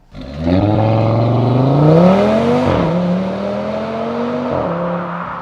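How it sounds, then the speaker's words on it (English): An Audi RS3 under hard acceleration: a loud, close engine note climbs steadily in pitch, drops sharply at two gear shifts and climbs again each time, with no voices. "I hit the throttle, and then this thing just takes off like a freaking jet plane."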